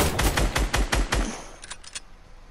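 Rapid burst of gunfire in a video game, aimed at a nearby tree: about six loud, evenly spaced shots followed by a few quieter trailing pops, with no talk.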